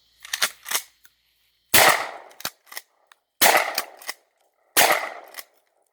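Four sharp gunshot-like bangs with clattering debris come from a shotgun blasting a cardboard box, spaced irregularly over several seconds with smaller impacts between them, close and loud with no talking.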